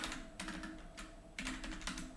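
Computer keyboard typing in a dark room, with several quick bursts of clicking keys separated by short pauses, close and moderately loud, no voices.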